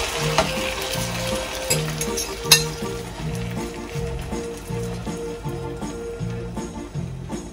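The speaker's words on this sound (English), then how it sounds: "Okay, the pan is hot. I'm gonna put my omelette now." An omelette fries in a hot pan over medium heat, a steady close sizzle with faint scraping and an occasional light clink of a utensil against the pan.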